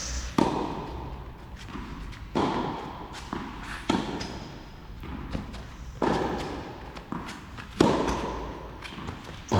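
Tennis balls struck during an amateur tournament match, sharp thumping hits recurring every couple of seconds at moderate distance, including a backhand shot, with faint background ambience between strokes.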